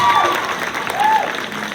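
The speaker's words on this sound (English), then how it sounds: "Yes, we can clap for Mark." Brief burst of audience clapping at a school band winter concert, honoring a jazz student, loud and dense over its short span with a faint voice or cheer underneath.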